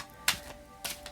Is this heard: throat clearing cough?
no